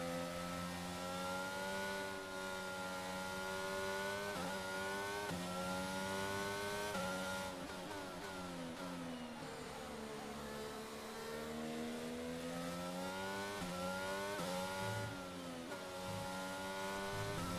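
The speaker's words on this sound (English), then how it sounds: "I'm just going to try and nurse this car home." A Formula 1 race car engine at Spa in the F1 2022 video game screams steadily at high revs, rising and falling with gear changes and throttle, loud and continuous with no talk.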